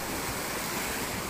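Sea waves wash along the shoreline, a steady broad rushing roar filling the whole moment with no pauses.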